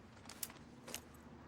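Keys jangling in the L.A. Noire video game, two short metallic rattles spaced apart, quiet and close against a low background hum, with no one talking.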